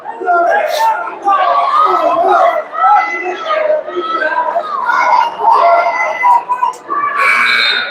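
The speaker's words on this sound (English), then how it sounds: "Super excited crowd tonight." Excited crowd noise at a girls' high school basketball game between the Lady Broncos and Roscoe, with a busy, continuous wash of cheering voices and children's chatter filling the gym throughout.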